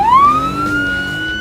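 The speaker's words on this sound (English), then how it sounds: "The siren rings." A cartoon fire truck's siren wails steadily and loud, a single rising then sustained tone heard alone.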